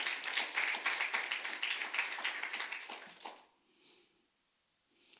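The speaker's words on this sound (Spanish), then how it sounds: "dale un aplauso a la gloria del Señor" A church congregation clapping for the glory of the Lord during a Spanish and English sermon: about three seconds of dense, steady applause nearby that fades out into quiet.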